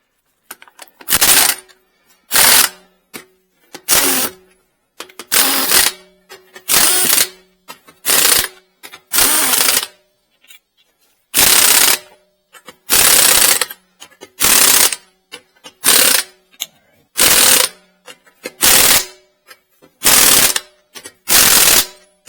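A power impact tool tightens wheel nuts on a 2021 Dodge Durango during a tire rotation, firing about nineteen loud, sharp hammering bursts of a second or so each, separated by brief silences, close up with no talking.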